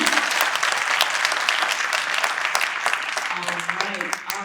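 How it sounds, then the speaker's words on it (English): A conference audience applauds clinicians, dense sustained clapping filling the room for several seconds before slowly thinning out, with a voice faintly emerging toward the end. "Bigger round of applause for these clinicians over the last few years."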